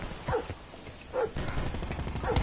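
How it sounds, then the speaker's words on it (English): Attack dogs barking in the Black Ops 4 beta, a few sharp barks spaced across a couple of seconds over busy game noise, fairly close. "the attack dogs are back"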